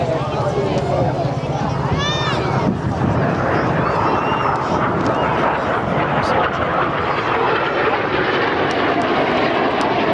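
Red Arrows jets performing low opposition barrel rolls at about 100 feet over the sea at the Clacton-on-Sea air show, a loud steady jet roar throughout with a commentator speaking over it.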